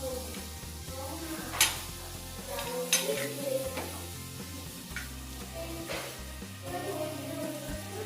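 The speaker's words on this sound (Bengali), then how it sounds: "বাটারটা দিয়ে দিচ্ছি কড়াইতে।" Butter melting and sizzling in an overheated kadai, burning as it fries, while pasta is being cooked. The sizzle holds steady under pot and utensil clatter and a few sharp clinks, with no voices.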